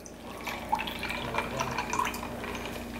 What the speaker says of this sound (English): I'm just gonna add some more water.